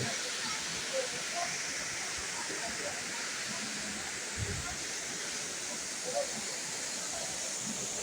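Elephant Falls in Meghalaya roars as a steady, dense rush of falling water, loud and unbroken, with faint voices barely audible beneath it.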